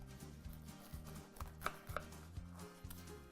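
A knife slicing a cooked egg in half on a board, producing soft, faint cuts and taps over a low, steady background hum, heard up close.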